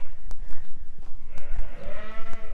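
Sheep bleat outdoors on a farm during lambing, with several loud, wavering calls close by in the second half over constant rough, blustery background noise.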